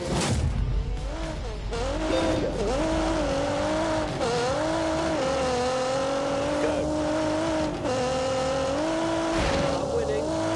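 A race car engine screams through a flying lap in The Grand Tour Game, its pitch rising and falling with gear changes and corners, loud and continuous from start to finish, with brief dips as the revs drop.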